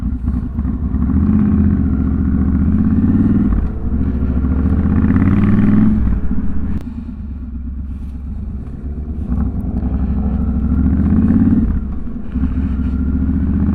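Old classic Yamaha motorcycle engine running at a cars and coffee meet, a loud, close, rough mid-pitched burble that swells and eases with a couple of throttle blips, no talk.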